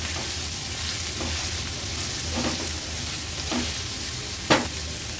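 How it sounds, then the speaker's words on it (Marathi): Two finely chopped medium onions sizzle steadily in hot oil in a home kitchen, a constant frying hiss with a few spatula scrapes and stirs cutting through, the last one sharper and louder. "कांदा तेलावर व्यवस्थित परतून घ्यायचे."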